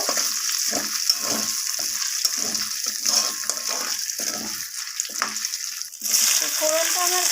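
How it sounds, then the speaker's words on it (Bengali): Whole spices, including cracked cardamom, frying in hot oil for a chicken curry, a continuous close sizzle with light stirring scrapes and a brief louder burst near the end. "ফোড়নটা একটু ভাজা ভাজা হয়ে যাক এর থেকে একটা মিষ্টি গন্ধ বেরোনো পর্যন্ত আমি অপেক্ষা করব"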